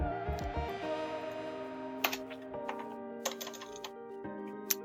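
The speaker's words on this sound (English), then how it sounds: "What if we typed in a number?" Number keys tapped on a computer keyboard while entering a value into a C# Windows Forms text box, a handful of sharp clicks spaced irregularly over a steady background tone.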